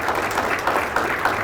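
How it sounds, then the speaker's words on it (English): Audience applause for guest Pete Weber, the Nashville Predators broadcaster, as a talk session wraps up: steady, dense clapping from a small crowd, even and continuous throughout the short stretch. "let's give a round of applause again to our guest"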